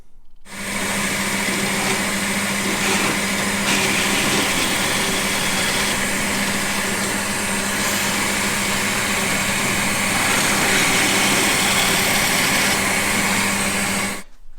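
A power tool drills counterbores into a full tang knife handle, a steady loud whirring drone with a constant hum running nearly unbroken from start to finish.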